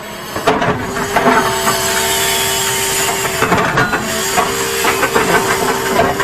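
A JCB 3DX backhoe loader shifts stones, its engine holding a steady tonal drone while hissing hydraulics and repeated scraping and clunking knocks of rock rise over it, close and loud.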